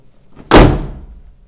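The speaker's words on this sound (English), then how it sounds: "So let's close the bonnet." The bonnet of a 2021 Mercedes AMG GLE 53 Coupe with HOFELE design comes down with a single sharp, close thump that rings out briefly.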